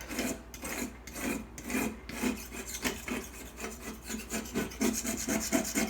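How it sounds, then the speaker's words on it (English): A razor blade scrapes baked-on grease bumps off oven door glass in a steady run of short rasping strokes, close and fairly loud, with no talking. "you start to see and hear all those little grease bumps coming off"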